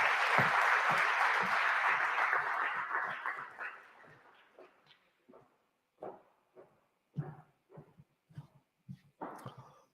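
Applause from a conference audience at the STARS EU Conference, dense clapping at first that thins and fades into a few scattered claps and a last brief burst, no talk.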